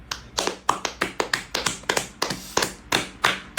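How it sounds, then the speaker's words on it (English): Hands clapping along in a steady, quick rhythm, with about fifteen sharp, close claps in under four seconds and no voices. "clapping along"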